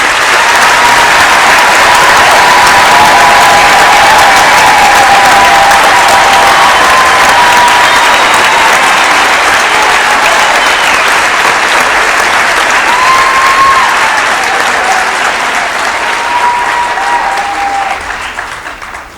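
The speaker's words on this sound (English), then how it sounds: "let us give our graduates a big hand for their hard work" A large graduation ceremony audience applauds graduates with loud, sustained clapping that fills the hall for about nineteen seconds before tapering off at the end.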